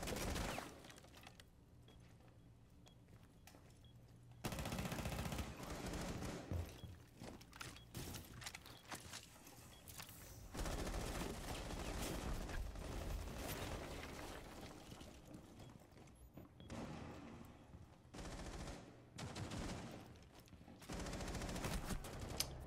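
Rapid automatic gunfire and explosive bursts from a Rainbow Six Siege match, loud and dense, coming in long clustered volleys with brief lulls between them and no talking over it.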